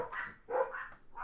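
Dogs at home barking in a few short, sharp yips and bow-wows, moderately distant and fairly quiet, with no talk over them.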